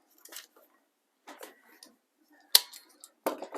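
Cloud Confetti cotton fabric being trimmed along a ruler, several short separate snips and rustles spaced by silence, close and fairly quiet.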